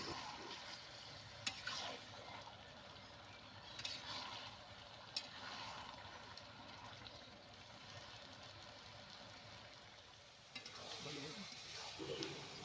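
Taro leaves (kochu shak) are stirred in a frying pan, with a soft continuous sizzle and faint scraping strokes of the spatula, quiet and steady throughout.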